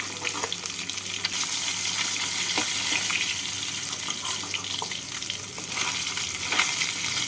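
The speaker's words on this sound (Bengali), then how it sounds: "বাকি মাছগুলোকে এই একইভাবে ভেজে নেব" Katla fish sizzles and crackles in oil steadily throughout, a continuous close frying hiss with occasional pops and stirring.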